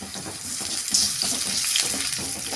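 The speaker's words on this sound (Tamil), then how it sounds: "அளவுக்கு இஞ்சி பூண்டு விழுது சேர்த்துக்கோங்க. நல்லா வதக்கி விட்டுக்கலாம்." Ginger garlic paste sautéing in a hot pan for a rava vegetable dish, giving a steady broadband sizzle and hiss throughout, close and fairly loud, with faint scraping textures and no voices.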